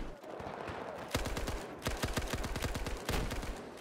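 Rapid bursts of machine-gun fire from a Battlefield game, likely the M60, come in three quick strings of sharp, loud, closely spaced shots, separated by brief pauses.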